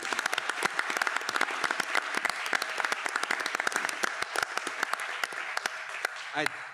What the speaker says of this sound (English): please join me in a round of applause for the founders of Bellas Artes Alliance, Andy Ramirez and his wife, Linda Ramirez.